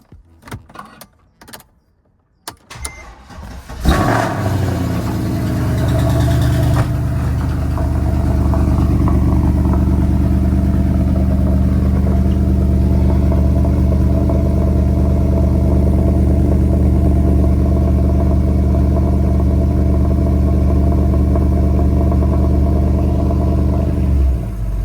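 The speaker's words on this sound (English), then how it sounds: "leave this to idle for maybe 10 minutes or so" A car engine starts after a few seconds of key and cabin clatter, then settles into a steady, loud, continuous idle that runs unchanged through the rest of the clip.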